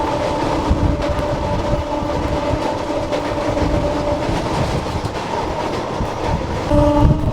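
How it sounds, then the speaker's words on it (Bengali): A passenger train on the Santragachi to Digha line rumbles loudly along the rails with rhythmic clickety-clack from the wheels, heard from on board, with a faint horn tone near the end. "সামনে থেকে একটা ট্রেন কিন্তু আসছে, আর কি পরিমাণে কার্ভ নিচ্ছে দেখুন"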